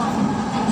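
An LRT light rail train in Manila rumbles steadily along the track in a brief, continuous ride sound, heard from on board.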